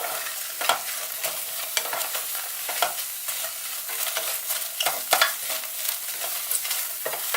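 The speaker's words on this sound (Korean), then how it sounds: "중간불 정도로 해서 양파의 색이 골고루 나도록 만들어주세요" Onions fry over medium heat in a pot, a continuous crackling sizzle broken by repeated scraping strokes of a stirring utensil, close and steady with no talk.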